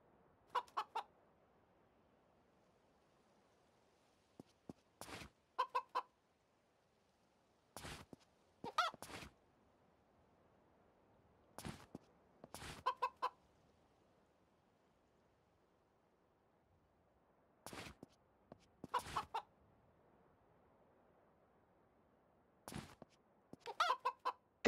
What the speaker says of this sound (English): Rooster in back.